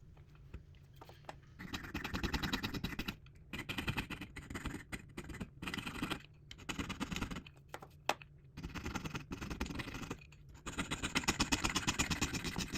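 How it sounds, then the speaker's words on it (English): A hand saw rasps steadily through a 1985 South African coin in repeated rhythmic strokes, close and clear, with brief pauses between bursts of cutting. "Every tiny movement of the saw creates one-of-a-kind texture."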